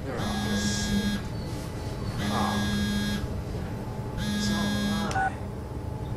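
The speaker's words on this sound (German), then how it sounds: "Oh, Telefon." Phone ringing in the horror game SOMA, heard as three repeated electronic ring bursts of about a second each, evenly spaced with short pauses between, against a low background hum.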